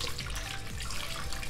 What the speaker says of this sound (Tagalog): Yan, ipunan natin siya ng tubig.